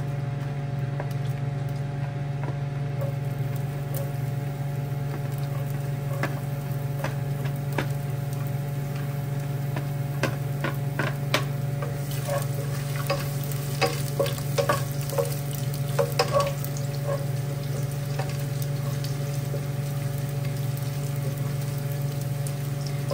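Garlic sizzles in olive oil in a pan for chicken caldereta, a constant hiss over a low steady hum, with clusters of light ticks and crackles from stirring in the middle, close and without talk.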